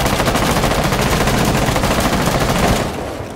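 Rapid, continuous LMG machine gun fire in Rainbow Six Siege, loud and sustained for about three seconds before abruptly stopping, with no talk over it.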